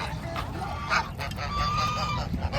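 Geese honk repeatedly in a noisy pet shop in Kuwait, their calls overlapping with other bird sounds and background bustle.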